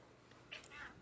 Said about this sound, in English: cat just meowed as I made her get off my lap